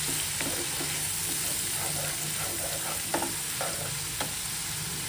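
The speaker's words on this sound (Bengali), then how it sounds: "এই মশলাটা এর মধ্যে দিয়ে দেব এবং মশলাটাকে নেড়ে চেড়ে কষিয়ে নেব" A masala of poppy seed, onion, garlic and tomato sizzles with prawns in a pan, a steady moderate hiss under scattered spatula scrapes and a few sharper knocks, heard close with no talking.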